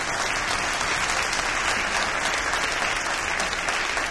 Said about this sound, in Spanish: y aplauda con ganas.